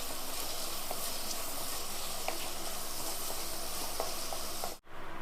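Bilimbi and tomato are stirred in a hot pan for a sardine curry, giving a steady close sizzle with occasional light clicks of the spoon before it cuts off abruptly near the end.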